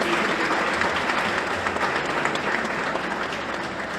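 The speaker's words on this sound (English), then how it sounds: "Give yourselves a round of applause." A crowd applauding itself at a People's National Movement campaign launch at Belmont Community Centre, with Dr. Keith Rowley, a dense, sustained roar of clapping filling the hall, loud and even throughout with no voices over it.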